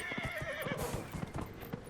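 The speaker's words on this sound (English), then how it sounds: "I'll just call my horse." A horse in the Dragon Age Inquisition video game whinnies loudly, then its hooves clip-clop in a steady rhythm close by, with no talk over it.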